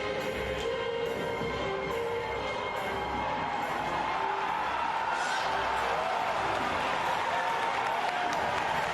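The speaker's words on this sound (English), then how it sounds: "Just listen to the audience once they see Link show up." A large press-conference audience at Nintendo's E3 2004 event bursts into applause and cheering, a dense, loud roar of clapping and shouting that swells and holds throughout, with a few voices standing out.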